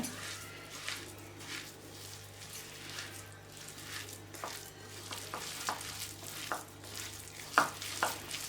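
Masala for green pigeon pea stuffed brinjal curry being mixed with two spoons of oil. The sound is a soft, quiet sizzle with repeated light scrapes and stirs, growing a little busier toward the end.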